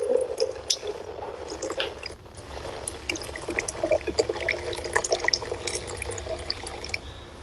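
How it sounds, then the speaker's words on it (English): Water poured onto coffee grounds while brewing coffee kombucha, a steady close wet squishing and dripping trickle running the whole time with no talk. "I'm going to add a bit more water here."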